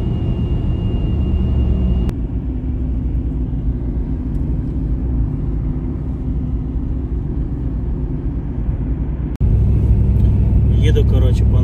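A car drives along the shore of frozen Banks Lake near a dam, its steady low engine and road rumble filling the cabin, with a brief thump and a louder surge near the end.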